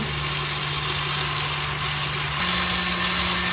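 An electric mixer runs at full speed, whipping egg whites for a pavlova meringue: a steady, loud motor hum that steps up slightly in pitch partway through as the speed is raised, heard alone without talk.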